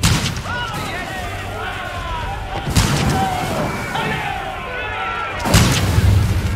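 Streltsy musket volleys in the Age of Empires IV siege of Kazan, 1552: three heavy booming salvos roughly three seconds apart over continuous battle din and background music, with a voice talking.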